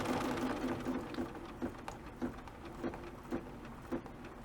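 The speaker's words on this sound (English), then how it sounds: "But this machine, this 990, smooth and quiet." A BERNINA B990 sewing machine runs smooth and quiet, stitching with a soft, even rhythm of light repeated thumps close by, with no talking.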